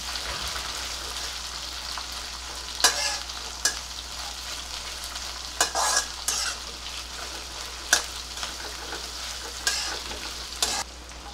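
Sliced onion sautéing in hot oil in a pan for dosa bhaji, a steady sizzle broken by several sharp scraping stirs of a spatula at irregular intervals, close and clear with no talk.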